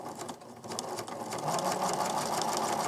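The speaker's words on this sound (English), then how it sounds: "I'm going to show you right now on the sewing machine how I would do this" Sewing machine stitching wavy quilting lines through layered fabric, a fast, continuous mechanical whir with rapid needle chatter that briefly eases and then picks up to a steady, slightly louder run.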